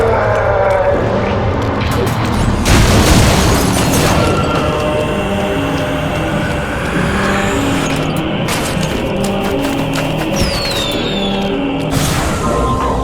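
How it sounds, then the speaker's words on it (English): Fireworks burst in Shadows of the Damned, with a loud crackling flare near the start and another near the end, set over steady game music and ambient noise while a voice talks. "Fireworks! We could use these to chase away the darkness,"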